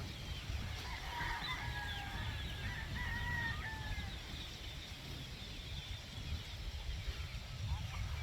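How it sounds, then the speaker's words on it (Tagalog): Chickens in a farm coop give faint, scattered clucks and a few crowing calls from a rooster, heard at a distance and under a low, steady background hum. "so ito po yung ating manukan ngayon"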